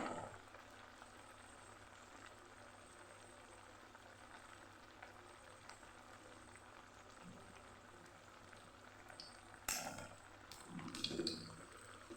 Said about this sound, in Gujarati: મીડિયમ ગેસ ઉપર વડાને સરસ આપણે તળી લેવાના છે